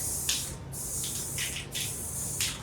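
Aerosol cans of black and white spray paint hissing in repeated close bursts, several short sprays with brief pauses, no voices.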